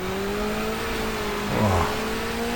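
A touring car engine in the GTR2 racing game drops to second gear on a 1994 Asia-Pacific championship race, a steady mid-pitched engine drone with a brief rising rev burst partway through, no voices.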